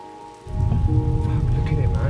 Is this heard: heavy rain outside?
yes